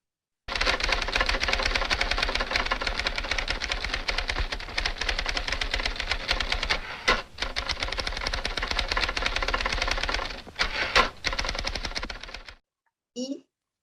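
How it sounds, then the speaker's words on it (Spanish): Typewriter keys clatter rapidly and continuously in a film scene, a dense mechanical rattle with a few brief pauses before it stops abruptly, followed by a faint short sound. "Cuando solo se escuchan las teclas de la máquina de escribir en las pruebas de las primeras postulantes"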